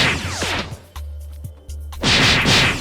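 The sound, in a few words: Cannon fruit attack firing in Roblox Blox Fruits video game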